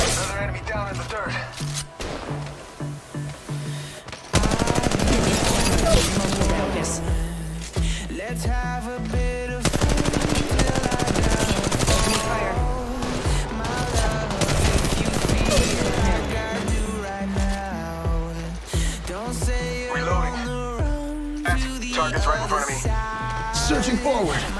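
Gunfire in Apex Legends Mobile comes as dense, loud bursts of automatic shots, layered with music and game voices.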